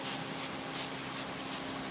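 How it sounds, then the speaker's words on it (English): Spray paint can hissing in repeated short bursts, about four or five quick sprays in a steady rhythm over a constant background hum, close and fairly loud, used while finishing a chainsaw wood carving. "Become a master of the spray paint can, okay?"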